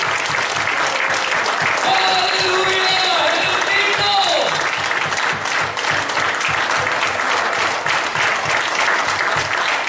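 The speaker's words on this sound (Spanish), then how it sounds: "Esas palmas que se oigan, hermano." A church congregation claps their hands in sustained, dense rhythmic applause, with voices calling out over the clapping throughout.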